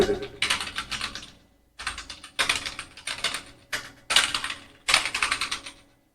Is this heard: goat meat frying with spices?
no